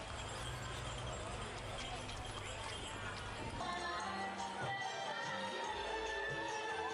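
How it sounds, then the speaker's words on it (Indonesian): Hooves of a horse-drawn carriage clip-clop along Jalan Pahlawan in Madiun during a Car Free Night, a fairly faint, steady patter amid the murmur of a street crowd, with voices talking over it. "menuju alun-alun dengan mengendarai kereta kuda"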